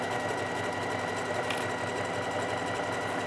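A sewing machine stitches hoodie cuffs, running at a steady, continuous hum with a fast, even rhythm throughout, close and fairly quiet with no talking.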